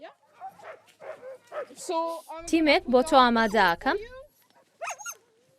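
Svalbard sled dogs whimpering and yelping close by in rising, wavering whines, while a person talks over them.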